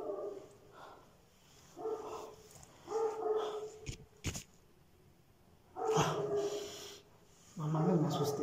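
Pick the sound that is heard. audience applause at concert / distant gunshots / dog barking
dog barking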